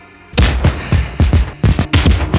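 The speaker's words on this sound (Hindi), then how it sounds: "आप देखिए डॉक्टर साहब, आतिशबाजी कितनी एडवांस हो गई है। कई बम छूटने के बहुत देर बाद आसमान में जाकर पड़ते हैं।" Fireworks at the Asian Games opening ceremony in Bangkok, heard over a television: a rapid series of loud booming bursts with crackling tails, about a dozen irregular blasts with no talk.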